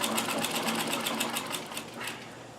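Sewing machine stitching the cuff of a bomber jacket, running as one steady continuous burr of fast needle strokes, close and clear with no talk over it.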